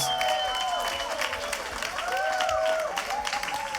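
A crowd applauds and cheers for Kool Herc at the American Beatbox awards, steady dense clapping with whoops and shouts rising over it, sustained throughout.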